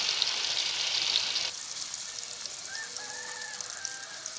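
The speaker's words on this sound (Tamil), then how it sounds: "எண்ணெய் சூடாகிடுச்சு. மசாலா போட்டு ஊற வச்சுருந்த கறியை போட்டுக்கலாம்." Masala-marinated pork pieces for village-style pork pakoda dropped into hot oil, a loud sizzling burst that drops to a softer steady crackle and bubbling, with faint chirping noises in the background.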